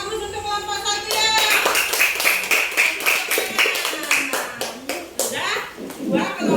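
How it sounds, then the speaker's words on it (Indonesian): Schoolchildren in a third-grade class applaud a presenting group, a dense burst of clapping starting after a second of chatter and continuing steadily near the listener, with kids' voices mixed in. "semuanya kasih aplaus untuk kelompok 1 ya"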